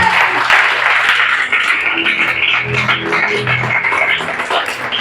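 A church congregation applauds to acclaim Jesus during a French-language service, with loud, dense and steady clapping that fills the room and carries on without a break.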